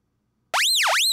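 Omnisphere synth tone whose pitch is swept by an LFO: after a brief silence a bright, buzzy note enters and swoops up, down and back up in a wobbling, siren-like arc.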